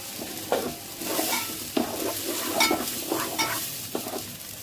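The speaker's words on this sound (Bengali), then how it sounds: "পেঁয়াজটা লাল হয়ে গেছে, এখন চালটা দিয়ে দিচ্ছি।" Rice stirred and fried in a pot with browned onions for chicken biryani, a steady close sizzle broken by repeated scraping stir strokes at an irregular rhythm, with no voices.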